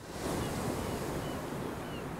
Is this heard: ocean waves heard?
yes